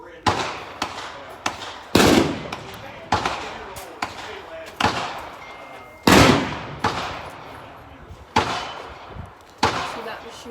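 Gunshots at an indoor shooting range on a first visit, a series of about ten loud, sharp reports at irregular intervals, each with a ringing echoing tail, with people talking faintly between shots.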